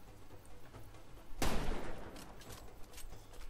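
A gunshot in the video game Far Cry 2: one sharp, loud burst whose echo trails off over a second or two, with a low, quiet game ambience before and after.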